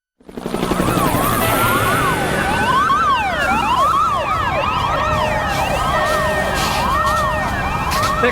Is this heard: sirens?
yes